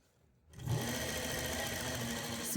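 A sewing machine stitching piping onto a blouse starts up after a brief silence, then runs as a steady, even mechanical whir with a fine rapid needle rhythm, close and continuous.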